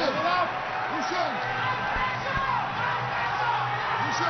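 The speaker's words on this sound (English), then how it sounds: "The crowd roaring these two on" A packed arena crowd roars continuously through the final seconds of a Greco-Roman 55 kg wrestling final between Iran and Azerbaijan at the London Olympics, a steady loud wash of voices with occasional shouts and thuds on the mat.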